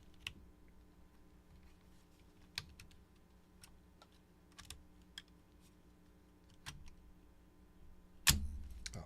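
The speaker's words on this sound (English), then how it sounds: "let me get my keycap puller." Keycaps are pried off a HellCat Alice Mech-01 mechanical keyboard with a keycap puller, giving scattered faint clicks and ticks and one sharper snap near the end, with no talking.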